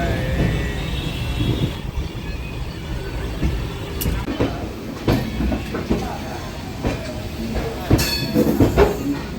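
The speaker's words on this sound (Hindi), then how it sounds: "लिच्छवी एक्सप्रेस पहुंच गई भाई साहब Varanasi junction, Banaras junction railway station" Lichchavi Express passenger train pulling into Varanasi Junction railway station in the afternoon, a steady rumble of railcars with faint clatter and brief wheel squeals, close and continuous, with some indistinct voices underneath.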